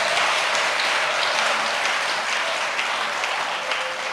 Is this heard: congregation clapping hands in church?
yes